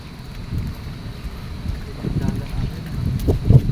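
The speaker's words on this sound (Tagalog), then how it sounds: "mahangin pa rin" Gusty wind from a weakening typhoon buffets the microphone in low, rumbling bursts outdoors near a river, with a faint voice underneath and stronger gusts toward the end.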